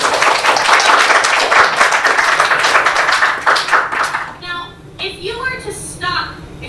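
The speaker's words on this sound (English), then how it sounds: "Give her a round of applause." A group claps for a singer during a vocal masterclass, a lively burst of applause with distinct hand claps that fades after about four seconds, followed by softer tapping and faint background sounds.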